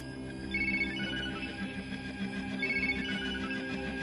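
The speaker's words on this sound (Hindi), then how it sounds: "क्या हुआ? किसका फोन है?" A phone ringtone plays a repeating electronic melody in a home setting, loud and steady in regular bursts, with no talking over it.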